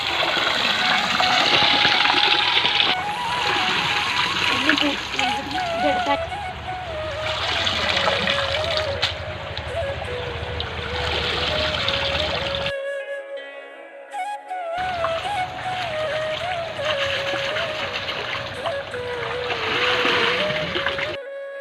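Greens being washed in a river, a steady close rush of splashing and flowing water with a brief break midway, and a faint tonal voice-like line running underneath throughout.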